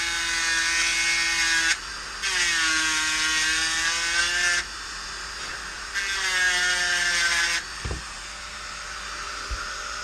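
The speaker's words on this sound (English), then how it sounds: "I'm just going to grind off a little bit right here." A power grinder cutting off part of a bolt, loud whining bursts with a tone that rises and falls, running for a few seconds each with short pauses between, followed by a couple of metallic knocks.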